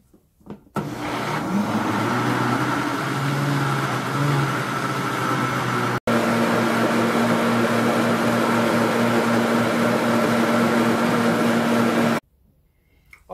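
An electric mixer beats a gluten-free, dairy-free cassava and coconut cake batter, a steady loud motor whir that starts abruptly, holds for about eleven seconds with a brief cut midway, then stops; no talking.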